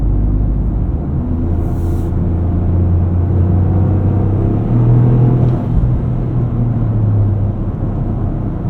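A 2025 Toyota GR Corolla with an 8-speed automatic gearbox accelerates on the road, heard from inside the cabin as a loud, steady low engine drone and road rumble with a slight rise in pitch partway through.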